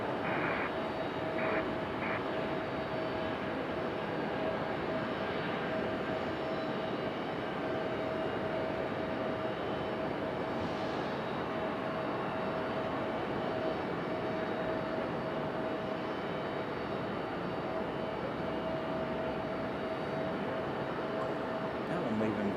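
An aircraft departs Raleigh Durham airport, a faint and steady low rumble of engine noise spread evenly across the whole stretch, with a distant voice talking quietly in the background.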